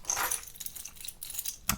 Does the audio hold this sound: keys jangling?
yes